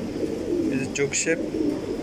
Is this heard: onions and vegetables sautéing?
no